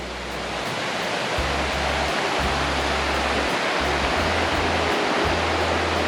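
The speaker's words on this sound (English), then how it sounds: "With the little river running down in their backyard." A little river running past a campground backyard rushes steadily in a broad, constant wash of flowing water, close and loud, with an intermittent low rumble underneath.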